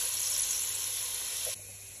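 Onions hit hot oil in a pan and sizzle with a bright, steady hiss that drops abruptly quieter near the end, close and alone.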